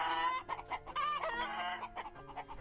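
Hens cluck steadily in a dense, close chorus, with overlapping rising and falling calls continuing throughout and no voices present.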